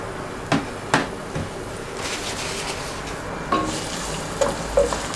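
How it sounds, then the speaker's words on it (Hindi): Chopped onions fry in hot oil in a cooking pot, a steady soft sizzle with a few sharp scraping stirs and clanks of a spoon against the metal, fairly close. "तो मैंने पतीली में ऑयल डाल लिया है, अब इसमें चॉप्ड प्याज जो है इसे ऐड करेंगे।"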